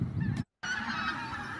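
A flock of greater white-fronted geese honks in flight, giving repeated high-pitched, yelping calls that overlap closely and fairly loudly, broken by one brief silent gap.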